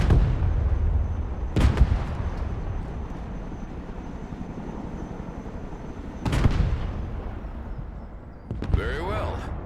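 Armor-piercing kinetic rounds firing at targets in the military strategy game Broken Arrow: a low continuous battle rumble with a few sharp heavy shots standing out at intervals, moderately loud.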